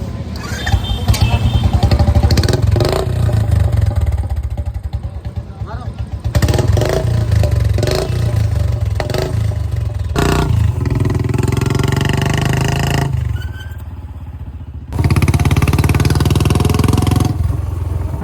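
A 350 motorcycle fitted with a new exhaust silencer starts up and revs loudly nearby, the engine note rising and falling in bursts, with people talking over it.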